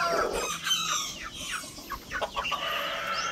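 Chickens clucking and a rooster crowing inside a backyard coop, a busy overlapping flock chatter of short calls at moderate distance, with no voices.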